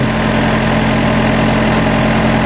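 A steady Yanmar 45-horsepower tractor engine drones at idle, a low constant hum with vibration, close and unchanging throughout, no speech.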